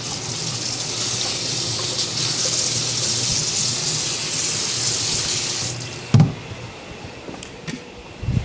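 Kitchen sink tap running steadily as a pan is rinsed, a loud continuous gush that cuts off near the end, followed by a couple of clunks of the pan against the sink.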